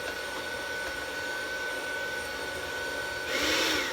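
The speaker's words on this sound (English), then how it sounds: "I have this mixer on the lowest setting." An electric mixer runs on its lowest setting while oatmeal raisin cookie dough is being mixed. It gives a steady, moderate whirring hum that grows louder and harsher near the end.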